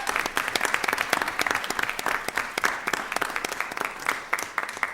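An audience at a school board meeting applauds, with dense, steady clapping from a roomful of people that sounds moderately distant and carries on evenly for several seconds.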